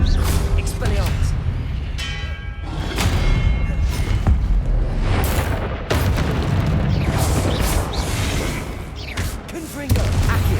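Spell blasts in a wizarding video game: loud, dense booms and bursting impacts follow one another almost without pause, with a player talking over the noise.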